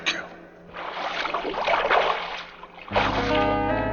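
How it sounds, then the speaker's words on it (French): Water sloshes and splashes in uneven strokes as a kayak paddle works through the surface, with a short pause before a rougher burst of sound. "Un kayak."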